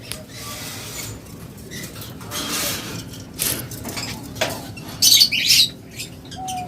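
A pair of pet lovebirds chirps and squawks in short, sharp bursts, with quieter rustling and faint background noise between the calls.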